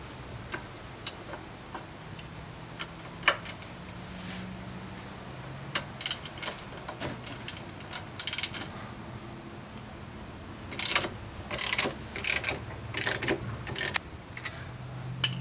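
A hand ratchet works on the 14mm bolts of a 2012 Honda Foreman rear trailer hitch, giving close, sparse clicks that turn into quick bursts of ratcheting near the end.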